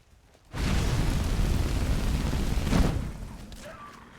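A fire spell blast in Skyrim erupts as a loud, roaring burst that sustains for a few seconds with a brief flare near the end before fading.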